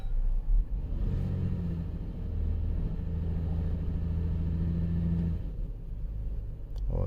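A 2014 Jeep Grand Cherokee 3.6L V6 idles in gear after shifting, holding a steady low engine rumble up close. It eases off near the end, and a faint click follows.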